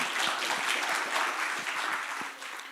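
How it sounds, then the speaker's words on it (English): Audience at a final pitch session giving a round of applause, continuous broadband clapping at fairly even loudness that tapers slightly toward the end, with no voices heard. "Give a round of applause,"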